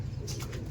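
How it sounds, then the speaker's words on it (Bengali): Pigeons coo in a low, continuous murmur with a few brief soft flutters over it, steady and close throughout. "পায়রা আছে দাদা।"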